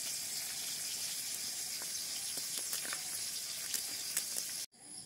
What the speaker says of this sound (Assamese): মোৰ মাছখিনি ফ্ৰাই কৰি হৈ গ'ল আৰু দেখিছেনে বহুতখিনি তেল থাকিলে তাতে।